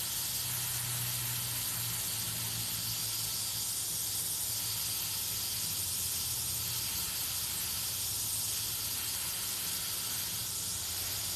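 An air compressor supplies an airbrush, running steadily throughout with a continuous broad hiss over a low mechanical hum and no voices.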